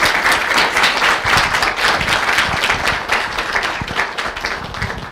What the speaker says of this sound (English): If we could just get another round of applause for the Ambassador.